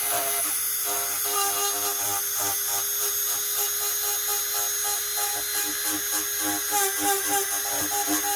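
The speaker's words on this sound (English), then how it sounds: "Only one way to get good with the Dremel." Dremel rotary tool shaping the tips of a yew bow, a high continuous whine with fluctuating grinding pulses as it cuts the wood, close and alone.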